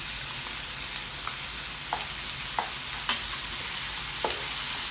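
Kung Pao chicken sizzles steadily in a hot pan while it is stirred, with a continuous frying hiss and scattered sharp clicks and scrapes from the spoon against the pan, close and moderately loud, with no talking.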